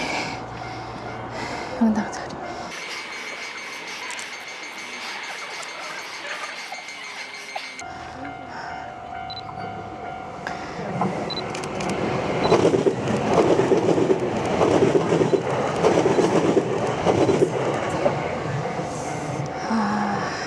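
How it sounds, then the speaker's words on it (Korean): A train rumbles past nearby in Onomichi, Japan, during a lantern festival, its steady roar swelling and lingering, with people talking over the rolling noise. "와 갑자기 기차 오네"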